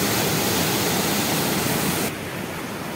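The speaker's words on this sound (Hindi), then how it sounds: "आपको जो ये आवाज़ आ रही है पानी की आवाज़ है" Water rushes steadily at the Ganga Barrage in Kanpur, a dense, constant roar that drops slightly in level partway through, with no voices.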